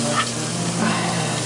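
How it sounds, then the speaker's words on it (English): Lentils tipped into a hot pot for a vegan iftar meal give a close, steady sizzle and frying hiss with soft stirring scrapes, no voices present. "now I'm going to add my lentils here"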